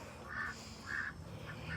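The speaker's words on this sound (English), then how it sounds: "We got duck, chicken, a rooster, a turkey." A mixed farmyard flock of ducks, chickens, a rooster and a turkey is led by a duck quacking three or four times at a steady, moderate pace against a low background hum.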